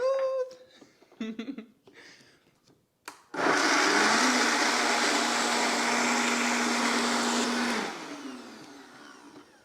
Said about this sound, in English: we're just gonna blend it up until it gets nice and smooth